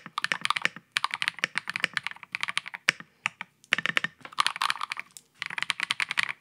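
Typing on a transparent gasket-mounted mechanical keyboard, with rapid bursts of close, crisp key clicks separated by short pauses, heard alone and fairly quiet.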